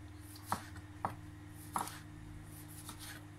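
A special knife slices shallots thinly on a board, giving a few faint, separated crisp cuts against a low steady background hum.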